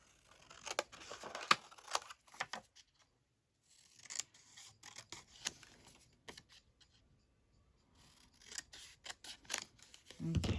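Scissors snip through fabric while tea- or coffee-dyed pieces are cut up for handmade fabric embellishments and clusters, giving repeated close crisp cuts in uneven bursts separated by short pauses, with rustling of material between them.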